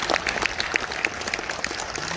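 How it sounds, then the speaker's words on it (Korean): An audience at a ceremony marking the anniversary of the 3.15 Uprising applauds the city's municipal changgeuk troupe after its celebration performance, a short burst of steady crowd clapping with a faint voice underneath. "멋진 축하 공연을 펼쳐주신 우리시 시립창극단에 다시 한번 큰 박수"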